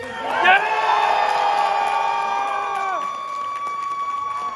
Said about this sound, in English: I need a big applause for Zeno Robinson.